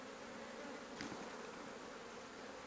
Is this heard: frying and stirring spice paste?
no